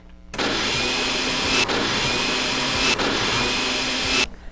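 A household blender switched on by remote control runs with a loud, steady motor whine for about four seconds, cutting in and out abruptly, close up with no voices.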